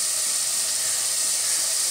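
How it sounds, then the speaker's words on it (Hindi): Half a kilo of carrots and half a cup of fenugreek leaves hitting a hot pan, giving a steady, even hiss of sizzling with no talk over it. "अब इसमें हम डाल देंगे 1/2 किलो गाजर है और ये 1/2 कप मेथी है।"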